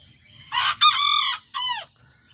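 A Kikiriki Azteca rooster among small chickens crows once, close and clear: a short opening note, a long sustained middle, then a falling tail, over quiet background.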